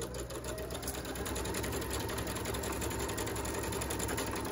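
Sewing machine running continuously and close while top stitching a face mask, a fast even mechanical whir and rattle with no pauses.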